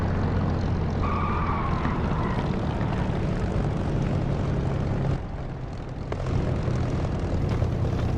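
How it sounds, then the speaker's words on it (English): Aircraft engine noise on a runway in the DCS flight simulator game, a loud steady roar that briefly dips in volume near the middle before swelling back up. "reflected engine noise off the surface of the runway"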